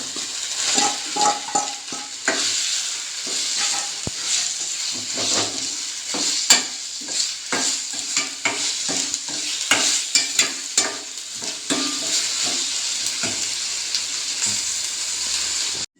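Prawns sauté in a pan with curry leaves and ginger-garlic paste, a steady close sizzle with frequent scraping stirs and spoon clinks throughout, no voices.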